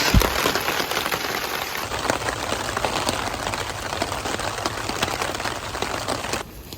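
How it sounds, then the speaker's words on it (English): Steady patter of rain drumming on a taut tarp nearby, dense and continuous, with no voices, on the Appalachian Trail. "Who needs a water source when you have rain and a tarp?"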